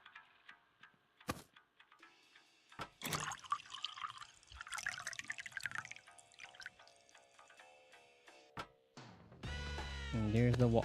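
Water pouring into a cup in the game Sandwich Simulator, heard as short liquid splashes and drips among bright tonal game sounds, ending in a louder, fuller stream of filling liquid.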